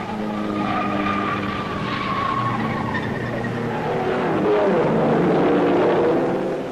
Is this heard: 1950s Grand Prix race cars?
yes